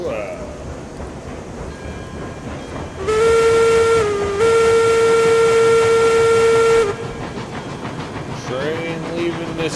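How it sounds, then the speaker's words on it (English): A steam train's whistle in the video game RailRoads Online blows loud and sustained for about four seconds as it leaves a station, briefly dipping midway, over a rumbling background of train noise that continues after. "Train leaving the station."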